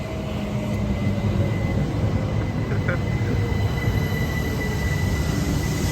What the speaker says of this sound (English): Here's the train.